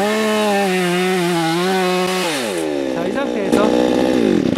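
A gasoline chainsaw cuts through a thick log, using the bucking spike for leverage. Its loud, close engine whine drones steadily, then drops and wavers in pitch as the chain bites deeper into the wood.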